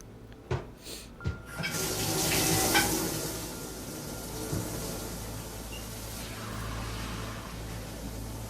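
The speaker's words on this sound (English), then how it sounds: "Use the shower." Shower water running in Deus Ex: Mankind Divided, a broad steady hiss of spray that swells after a couple of short knocks and then settles into a continuous rush, close and fairly loud, with no talking.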